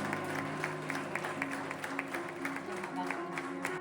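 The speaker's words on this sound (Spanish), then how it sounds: "Recibámoslo con un fuerte aplauso." Applause welcoming a novelist at a public library anniversary event, a continuous clapping texture mixed with sustained tonal music or voices underneath.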